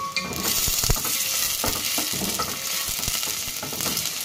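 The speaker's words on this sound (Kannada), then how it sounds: "ಈರುಳ್ಳಿ ಚೆನ್ನಾಗಿ ಫ್ರೈ ಆಗಲಿ." Finely chopped onion frying in a little hot oil in a pan, a steady loud sizzle with occasional scraping stir strokes, no voices.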